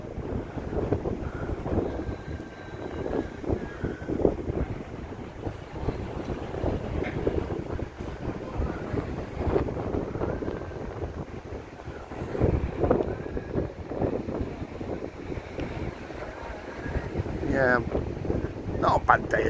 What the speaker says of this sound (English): You can see with the sea it's a bit breezy, as if you are getting some wind noise